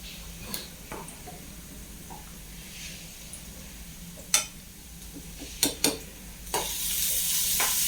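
Masala for spinach sambar being stirred and sautéed in a pan, a quiet low sizzle punctuated by several sharp spoon scrapes and clinks, with the frying growing louder near the end.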